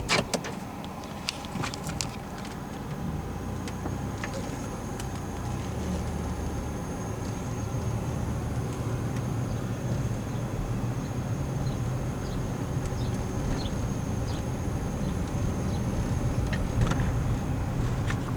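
A 2003 Buick Rendezvous CX driving slowly around a lot, heard from inside the cabin as a steady, low, even rumble of engine and road noise, with faint knocks and rattles and no talking.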